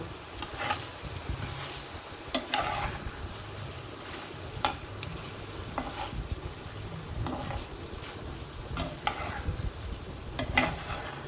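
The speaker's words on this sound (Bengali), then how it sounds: "এবার আমি দিয়ে দেব 1 চামচ জিরার গুঁড়া আর 1 চামচ মরিচের গুঁড়া, দিয়ে ভালো করে কষিয়ে নেব।" Cumin and chili powder frying in coconut milk that has released its oil, a low bubbling sizzle broken by repeated scraping stirs of a spoon against the pan.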